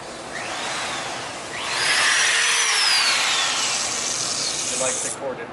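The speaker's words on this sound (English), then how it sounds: "I like the corded drill." A corded power drill bores into a workpiece in a high-voltage lab, its motor whine rising and holding steady at close range for several seconds before spinning down near the end.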